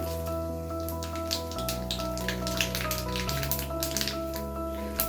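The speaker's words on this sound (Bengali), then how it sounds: "এবারে এই তেলের মধ্যেই ফোড়নের জন্য দিয়ে দিচ্ছি 4-5টা শুকনো লঙ্কা, আর দিয়ে দিচ্ছি কালো জিরে" Dried red chillies and nigella seeds fry in hot oil as a tempering for a thin katla fish curry. Quiet, scattered crackles and pops sound over a steady low hum in the kitchen.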